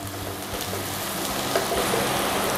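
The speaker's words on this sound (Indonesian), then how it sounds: "Masukkan bawang putih. Tumis lagi sampai harum." Garlic and shallots sauté in a hot pan, giving a steady, close sizzle and crackle like light rain that holds evenly throughout, with no voices.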